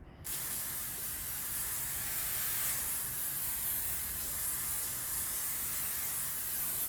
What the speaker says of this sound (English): first thing I'm gonna do is spray my hair